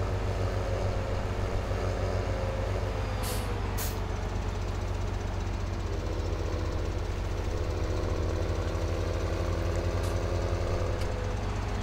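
Tractor engine in Farming Simulator 17, a steady, continuous low diesel drone at constant loudness with faint mechanical clicks, no speech over it.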